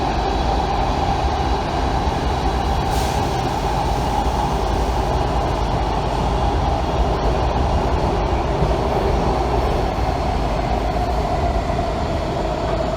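Loud, constant rumble of a Washington Metro Kawasaki 7000-series subway train running on rails, a steady droning roar with a faint squeal, no voices.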